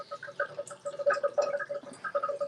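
Water drips in quick, irregular patters from soaked clothing onto a bathtub floor after someone climbs out, close and fairly clear.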